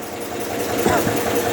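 An IC engine running on a test rig, steady rhythmic mechanical chugging with a knocking, sewing-machine-like pulse, close and constant throughout.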